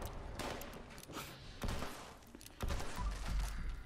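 A bloodied explosive single action revolver in Fallout 76 fires a few heavy, booming shots with explosive bursts, spaced out over a rumbling game background and no talk.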